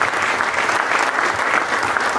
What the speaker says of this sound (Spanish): Vamos a repetir el aplauso, por favor